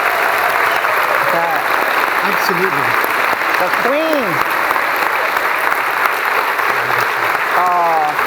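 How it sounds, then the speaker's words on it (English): Sustained audience applause at a library conference keynote honouring Carla Hayden, steady and loud throughout, with a speaker's voice talking briefly over the clapping. "please join me in giving Carla a huge thank you and a huge round of applause"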